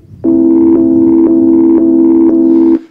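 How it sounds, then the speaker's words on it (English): Sampled piano line played back through Ableton Sampler with an envelope filter on the sample, five short repeated notes at the same pitch in a steady rhythm, loud and close, then stopping. "So that main piano line comes from here."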